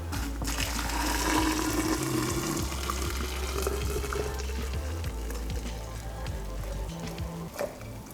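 Boiled water pours steadily onto eight tea bags for homemade kombucha, a continuous close splashing and trickling stream lasting several seconds with no talking.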